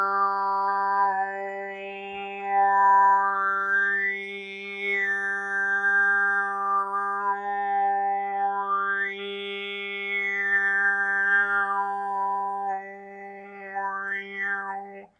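A single voice doing Western overtone singing, holding a steady low drone while one high, whistle-like overtone glides up and down above it, close and clear with no talk.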